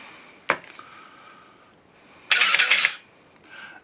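A Canon Motor Drive MA on a single-lens reflex camera fires and winds film at high-speed continuous: a sharp mechanical burst, then a louder rapid whirring run of about half a second, close and alone with no talk.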